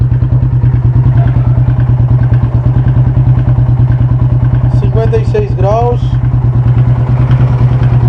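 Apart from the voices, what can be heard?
Yamaha Fazer 250 motorcycle engine running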